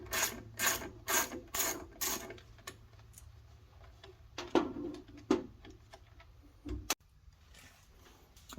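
Hand ratchet loosening Torx screws on the back of a Porsche GT steering wheel, a run of five quick, close clicks, then scattered softer clicks and handling noises, faint overall.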